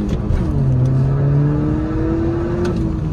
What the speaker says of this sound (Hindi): रेव थोड़ी फ्रीली हो रही है, ऐसा लग रहा है कि थोड़ी क्विक रेविंग हो गई है गाड़ी